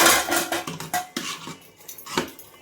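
A spoon stirs biryani rice in a cooking pot. It makes a quick run of close metallic clinks and scrapes against the pot. No voices are heard.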